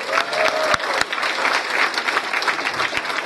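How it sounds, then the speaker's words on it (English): Audience applause at the Spencer Greenwave football banquet, dense and steady clapping from a large room crowd with a few sharper claps standing out, continuous for about three seconds. "So let's please give them a round of applause."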